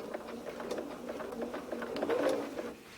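A sewing machine stitches a stretch-fabric neckband onto a neckline, a fairly quiet rapid run of needle clatter with slight speed changes that winds down near the end.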